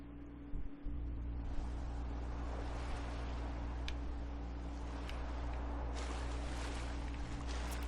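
A steady wash of water and engine-like rumble from a game boat ride carries on under faint ticking, with no talking.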